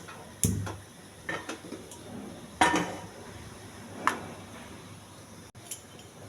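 A pan is set down on a lit stove, with several sharp metallic clanks and clinks of cookware in a quiet kitchen, spaced irregularly, the loudest knocks near the start and middle.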